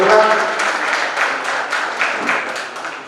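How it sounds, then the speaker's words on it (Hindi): An audience claps in applause during a vedi consecration ceremony at a Digambar Jain temple, a dense crowded patter of many hands, steady and moderately loud, tapering slightly toward the end. "सम्मान में मैं एक बार जोरदार आपसे तालियों की अनुरोध करूंगा।"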